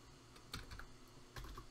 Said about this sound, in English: And I'm going to type FTP.